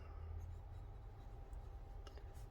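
Baoer 801 fountain pen nib scratching across paper, a faint, soft scratching under a steady low hum, close and quiet.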